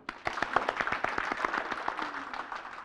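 A workshop group claps fast and vigorously in a quick, steady rhythm, many hands together, loud and lively for about three seconds.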